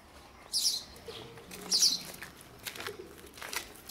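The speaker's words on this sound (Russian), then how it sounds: "Так, он воробьи уже." Sparrows flap their wings and chirp while being fed on a summer morning in Dnipro, Ukraine. Two loud wing bursts come close by, followed by softer flutters and faint chirps.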